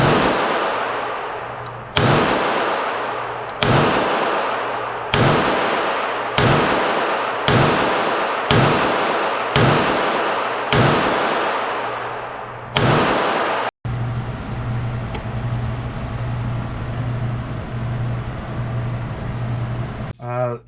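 Canik SFX Rival pistol firing ten sharp, loud shots in a quick, fairly even cadence with echoing tails, followed by a steady background hum and a few faint clicks.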